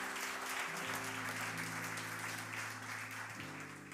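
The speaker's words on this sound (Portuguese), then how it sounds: "Aplauda Jesus" Church congregation applauding during a service, a dense, sustained wash of clapping heard from a distance under a low, held organ or keyboard chord.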